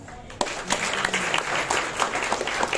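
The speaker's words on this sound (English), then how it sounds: "Clap." Audience at a workplace gender-gap panel discussion bursting into applause, a sudden onset followed by brisk, dense clapping from a moderately near crowd for a few seconds.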